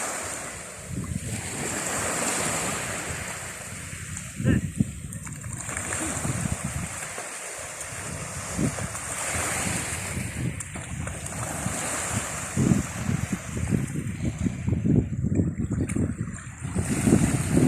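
Pacific Ocean surf washing onto a beach, steady broadband wash with repeated wave surges and gusty wind buffeting the microphone, no voices.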